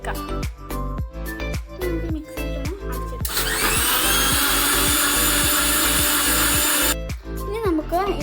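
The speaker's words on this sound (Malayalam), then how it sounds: "ഇനി നമുക്കത് ഈ മിക്സിയിലിട്ടൊന്ന് അടിച്ചെടുക്കാം." A kitchen mixer grinder blends mango-leaf juice with ginger, sugar and lemon, whirring loudly and steadily for a few seconds between stretches of rhythmic background music beats.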